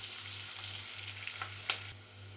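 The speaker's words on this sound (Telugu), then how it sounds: "కొద్దిగా ఉల్లిపాయలు బ్రౌన్గా వచ్చే వరకు ఫ్రై చేసుకుందాం" Onions and green chilies frying in a pan, a steady, fairly quiet sizzle with a low hum beneath and one brief clink near the end.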